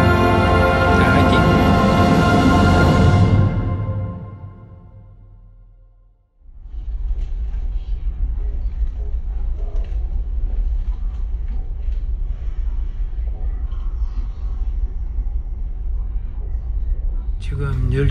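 A train ride from Siegen to Hagen station in Germany: a loud tonal sound fades away at the start, then a steady, close low rumble of the moving train carriage continues, with faint rattles and clatter on top.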